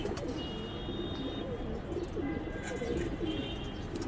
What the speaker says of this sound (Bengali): এই যে একটা সবুজ গলা কবুতর